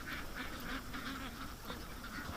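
Ducks quacking near water on a rainy morning, a steady run of repeated calls at moderate distance over soft rain.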